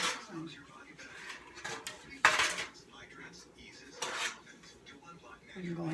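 Metal pans clank and scrape in a home kitchen during cooking, with a sharp clatter midway and another knock later, while a person talks quietly in between.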